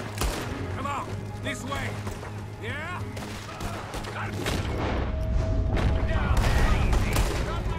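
A Red Dead Redemption 2 shootout rattles with repeated gunshots and scattered bangs that build toward the end, while characters shout over the fire.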